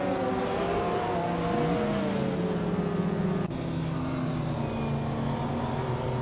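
Engine of a 1993 McLaren F1 supercar in a racing video game, a steady loud drone with sustained tonal harmonics that rise and shift as it accelerates, other cars audible around it, no talk.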